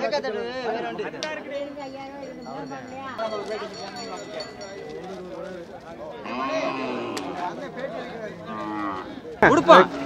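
Cattle at the busy Manapparai cattle market in Tamil Nadu: repeated loud moos and lowing close by over steady crowd chatter, with people talking throughout and a sharp clatter near the end.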